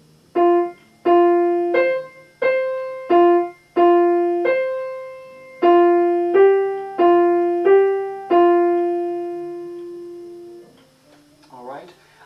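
Piano piece with groups of seconds in the left hand, played as a series of clear, separated chords, then a final held note that decays, with a brief rustle at the end.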